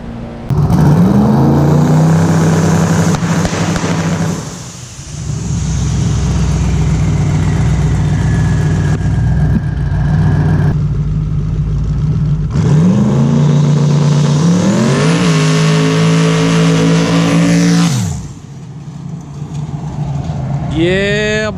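A twin-turbo LS-powered Ford Falcon revs hard on the street in several rising and falling pulls, loud and close, with a lower idle between bursts and a brief lull near the middle.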